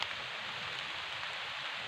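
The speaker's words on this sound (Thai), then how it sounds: "ฝนก็ตกเลยครับ" Rain falls steadily on a forest during mushroom foraging, making an even, broadband hiss of drops on leaves with no voices.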